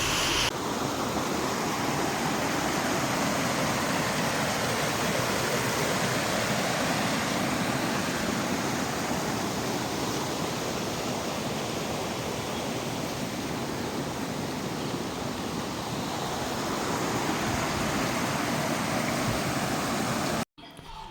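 Heavy rain pours in a loud, unbroken roar of dense noise, close and steady throughout, cutting off abruptly at the very end.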